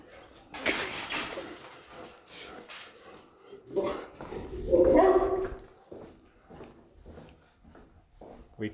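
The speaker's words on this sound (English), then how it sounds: "That's a very big dog." Big dog barking outdoors near houses on a street during a bicycle tour, several loud barks and yelps scattered across the stretch while a person talks and breathes over them.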